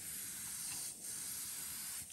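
A spray gun hisses continuously as it coats a 130 jerkbait fishing lure with paint, one steady close burst with two brief dips in pressure.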